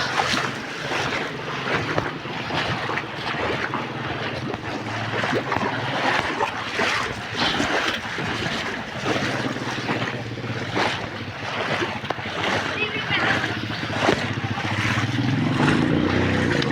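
Fast, heavy rainwater rushing through a flooded village street after rain, a loud continuous churning wash with wind buffeting the microphone throughout, no voices.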